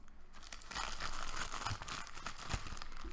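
Scissors cut open a sealed plastic bag from an American military MRE ration, with close crinkling and tearing sounds from the packaging over a few seconds, no talking.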